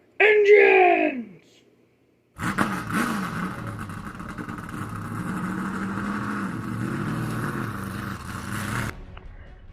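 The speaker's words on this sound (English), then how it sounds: "Drivers, start your engines!" NASCAR race car engines fire up at Daytona, a steady low rumbling drone of many engines idling together for several seconds after a short burst of voice.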